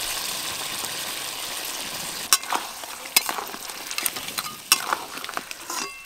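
Village-style king size Sundarbans crab curry frying in a pan as fried ghee goes over it, a soft continuous sizzle punctuated by several sharp clinks and scrapes of a spoon stirring, close up and without speech.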